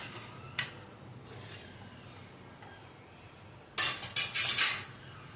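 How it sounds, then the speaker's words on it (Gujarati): A spoon clinks and scrapes against a pot while stirring gathiya curry with buttermilk, a lone knock early on, then a quick burst of several close metallic scrapes and taps near the end, with quiet gaps between. "પછી આપણે એને હલાવી લઈએ."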